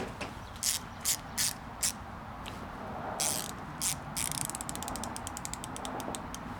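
The headlight beam adjustment screw on a Nissan Xterra is turned with a tool, giving a series of small, close clicking ratchet ticks. At first they come in separated pairs, then speed into a rapid run over a steady background hum.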